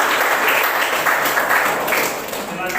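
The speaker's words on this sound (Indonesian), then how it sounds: "tepuk tangan dulu untuk semua" Sustained applause from a classroom of high school students at a chemistry lesson, a dense steady wash of clapping filling the whole stretch at fairly loud level.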